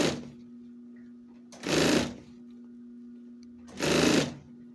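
A sewing machine stitches a backpack in two bursts of steady, loud whirring, separated by pauses in which a faint constant hum carries on.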